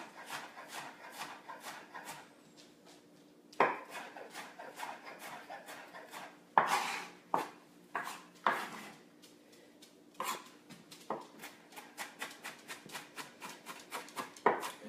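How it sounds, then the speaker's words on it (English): Knife mincing onions on a cutting board for guacamole, a steady run of soft, close chopping taps with occasional sharper knocks, fairly quiet and without talk. "we'll very slowly work over our onions here. Make sure everything is nice and minced."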